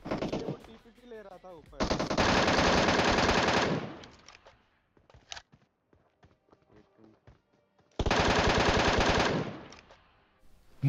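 An MK14 rifle in PUBG Mobile fires two long, loud bursts of rapid gunfire, separated by quieter stretches of scattered shots and game sounds.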